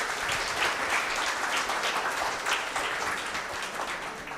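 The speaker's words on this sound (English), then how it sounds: "Can I have some applause for that" Audience at a Kotlin web development talk breaking into sustained applause, a dense crowd of hands clapping loudly and steadily for several seconds before easing slightly at the end.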